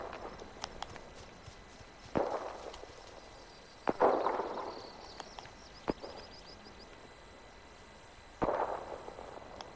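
Gunshots in Cuisine Royale, a few sharp, fairly distant cracks spaced irregularly across the clip, each trailing into a short echo over quiet ambient background.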